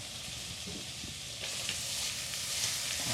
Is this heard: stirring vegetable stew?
yes